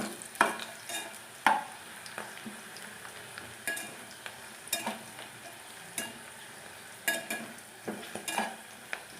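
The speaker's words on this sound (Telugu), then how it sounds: "ఉల్లిపాయలు ఎర్రగా వేగుతున్నాయి." Sliced onions sizzle in a pan while a spoon stirs them, producing a soft, steady fry punctuated by regular scraping and clinking strokes, close and fairly quiet with no voices.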